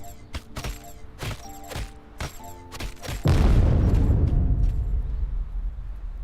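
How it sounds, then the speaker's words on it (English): An explosion goes off just outside a door in the video game Girls' Frontline 2 Exilium. A deep, loud boom hits after a run of sharp clicks and knocks, then a long roaring rumble sustains to the end. "The explosion sounds outside the door."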